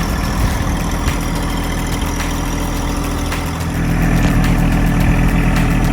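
A small tractor engine runs steadily close by with a low, even rumble that swells slightly louder toward the end as it pulls a load onto a lot.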